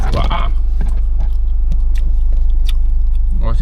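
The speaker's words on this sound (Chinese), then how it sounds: "它咸油条跟外面的油条很脆，很好吃" Crispy, salty fried dough stick (youtiao) is bitten and chewed inside a car. The crunching is close and intermittent over a loud, constant low engine rumble.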